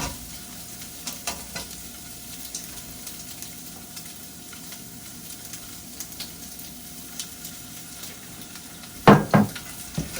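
Sausage sizzling and crackling in a hot oiled pan, steady frying hiss with scattered pops, then a couple of louder scraping clatters as it is stirred and broken into pieces; no talk.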